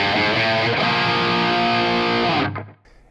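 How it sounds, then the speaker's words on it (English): Electric guitar through a Boss DS-1 distortion pedal rings out as one loud, sustained distorted chord that holds, then cuts off sharply near the end, leaving a faint tail. "now we kick in the distortion"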